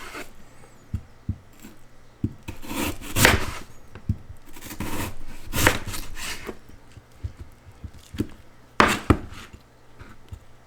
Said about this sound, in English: Now we're going to cut these into strips as well.